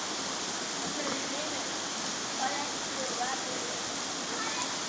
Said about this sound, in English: It's a chilly rain, so I shan't go in it.